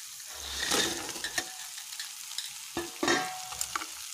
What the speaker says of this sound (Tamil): இப்போ எல்லாம் கலந்துக்கலாம்